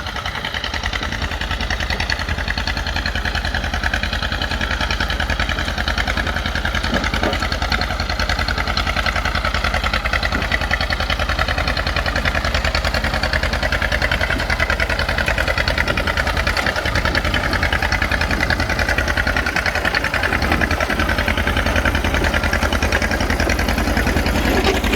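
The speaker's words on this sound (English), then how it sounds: "This motor is obviously hurt. It's hurt bad. It is running on 3 cylinders" Old engine with rusty cylinders, badly hurt and idling rough on only three of its cylinders; a steady, uneven, knocking idle that runs loud and continuous throughout with no talk over it.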